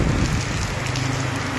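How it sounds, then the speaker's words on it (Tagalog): Heavy rain hammers down steadily on surfaces at a market stall area, a dense continuous roar with gusts of wind mixed in, loud and close with no pause. "grabe po ang ulan dito sa diet po"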